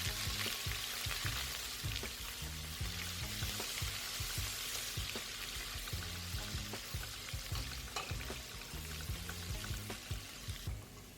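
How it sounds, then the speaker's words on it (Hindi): Garlic and ginger paste frying in oil for a restaurant-style mutton karahi, a steady close sizzle with faint crackles and a rhythmic low scraping beneath, running unbroken with no talk. "और इसको हम 1 से 2 मिनट के लिए फ्राई कर लेंगे।"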